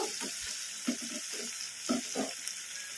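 Ginger garlic paste fries on medium flame in a kadai, a soft continuous sizzle broken by several short scraping stirs of a spoon, close and moderately loud.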